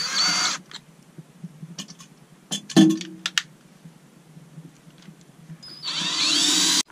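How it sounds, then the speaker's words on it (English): A power drill bores holes in wood to mount a boat's stern roller, heard as two loud, steady whirring bursts at the start and end with a whining pitch at the close, and quieter clatter in between. "I'm just going to drill some holes to mount the stern roller"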